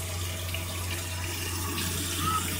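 Water pours steadily from a Camp Chef Triton portable propane water heater in a constant, close hiss over a low steady hum, with no other distinct sounds.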